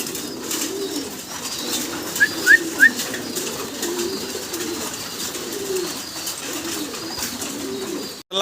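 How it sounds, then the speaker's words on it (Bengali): Mundian pigeons coo in a low, rolling rhythm close by, repeating steadily, with a few brief high chirps partway through. "চমৎকার এক পেয়ার মুন্ডিয়ান কবুতর"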